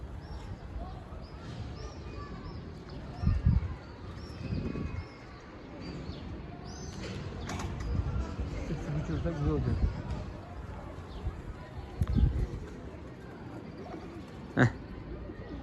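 Domestic pigeons, a flock including newly flown young birds, flap and coo in the open with seagulls nearby, giving soft wingbeat bursts and low calls under steady close talk.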